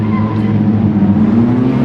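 TCR race car engines in a sim racing game hum as a held drone at the race start, the pitch slowly climbing, loud and close with no speech.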